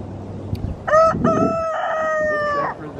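Chickens in a new coop built from a converted tool shed, a loud nearby crow-like call rising over quieter clucking and rustling, lasting about two seconds.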